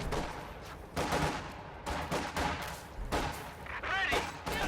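Machine gun fire in the real-time strategy game Company of Heroes 2, with an MG team firing at infantry: repeated bursts of rapid gunfire with other battle explosions, mixed under steady commentary.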